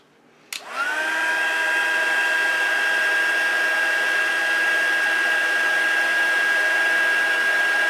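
An electric heat embossing tool blows steadily over thick white cardstock dusted with embossing powder for a Christmas card, switching on sharply and holding a loud, even whirring hiss throughout.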